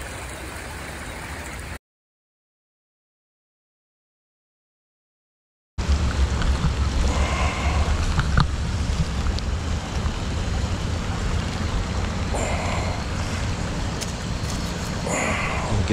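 A camping stove roars under a pot of water boiling on the trail, a dense, continuous rushing hiss that cuts out completely for about four seconds, then returns just as loud and steady.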